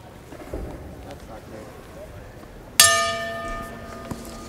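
A single sharp strike of a boxing ring bell opens the first round of a cruiserweight bout, ringing out bright and metallic and then slowly decaying over a low murmur from the arena crowd.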